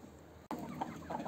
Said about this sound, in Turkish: Şimdi bu fazla fideleri tavuklara ikram ediyoruz.